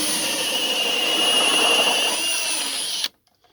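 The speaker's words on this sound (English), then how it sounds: "Very easy with the drill." A power drill with a 36mm hinge bit whines steadily at close range for about three seconds, its pitch slightly shifting, then stops abruptly into quiet.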